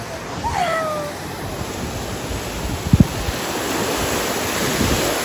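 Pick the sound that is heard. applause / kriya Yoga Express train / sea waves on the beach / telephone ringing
sea waves on the beach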